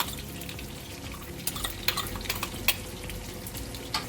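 Crushed garlic, tomatoes and red pepper fry in olive oil with a constant close sizzle, broken by several light clicks and scrapes of stirring.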